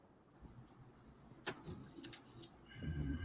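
Insects, crickets or locusts, chirp outdoors in a steady, fast pulsing rhythm of high, regular calls at moderate distance, with a brief sharp knock partway through and a low rumble near the end.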